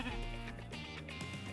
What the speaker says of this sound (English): We raise White Dorper sheep, and that's what my true passion has been ever since we got into them.